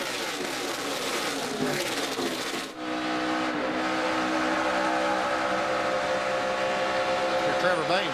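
Stock cars race at the 2012 Sam's Town 300, a loud continuous engine roar with a sharp dip near the three-second mark as a car passes, then a sustained drone under faint commentary.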